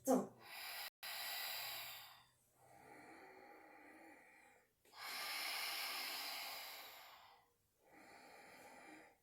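Controlled exhaled breaths during a Pilates exercise: four long, breathy exhales in steady succession, close and fairly loud, each trailing off before the next, with no talk.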